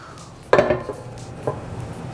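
A Tsunami aftercooler heat exchanger being flipped 180 degrees makes one sharp metallic clunk followed by a softer knock about a second later, close by and otherwise quiet.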